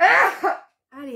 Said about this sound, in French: Ah, je vais éternuer.